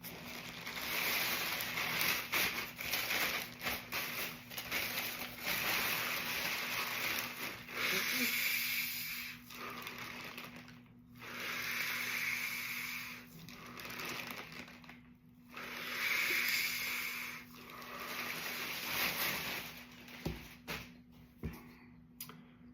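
Breathing in and out with a plastic bag pulled over the head, heard as long rhythmic bursts of crinkling, rushing noise separated by short quiet pauses, close and fairly loud.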